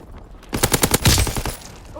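Rapid automatic gunfire in the Call of Duty video game, a loud burst of evenly spaced shots followed by a heavier blast and fading echoes, with no speech over it.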